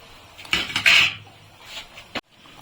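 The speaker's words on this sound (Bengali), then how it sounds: "এই 1 চামচের মতন ঘি দিয়ে দিলাম, একটু গরম মশলার গুঁড়ো দিয়ে দিলাম" A spoonful of ghee goes into a pot of fish-head pulao as a metal spoon clatters and scrapes against the pot in a brief flurry, followed by a single sharp tap and quiet.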